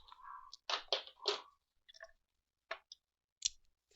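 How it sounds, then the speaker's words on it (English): Scissors cut through file-folder paper with a series of crisp snips and crunchy clicks, several quick strokes close to the microphone with short pauses between them. "I'm going to work the rest with scissors."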